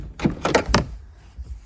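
Three quick mechanical clunks and scrapes come from a rusty car door being pushed open by hand, close up, followed by quiet low rumble.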